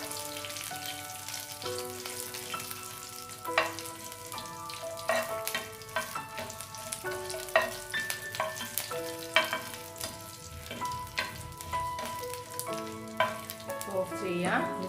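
Green chilies, curry leaves and shallots tempering in hot oil for Kerala sambar, a steady sizzle and crackle with scattered pops and spatters, close and moderately loud with no talking.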